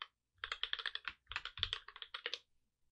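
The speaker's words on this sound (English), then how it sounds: "I've got a new keyboard and it's really clicky and it's bugging me now." Rapid typing on a new, very clicky computer keyboard, a dense run of sharp keystrokes in bursts with brief pauses, close and fairly quiet, no talking.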